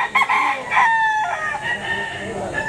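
A rooster crows repeatedly at an outdoor tiangge market in Lipa, Batangas, where roosters are sold. The loud crows stand out over busy crowd noise and distant chatter.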